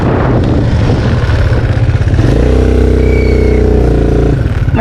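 A small 99cc motorbike engine revs loud and close, climbing in pitch with a steady rattling drone that holds high before easing off, on a trail ride.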